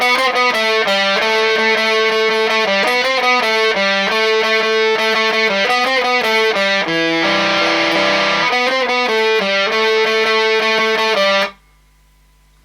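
A loud, heavily distorted electric guitar on the bridge pickup plays a chugging riff of repeated chords from Foo Fighters' "Outside" for about eleven seconds, then cuts off into near silence.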